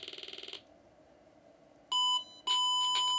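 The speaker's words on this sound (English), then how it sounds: "That's closer to the sound that the sound chip makes. Square wave." Square-wave tone from a monitor's sound chip speaker: first a rapid pulsing buzz, then after a quiet pause two shrill, steady electronic beeps, fairly faint overall and without voices.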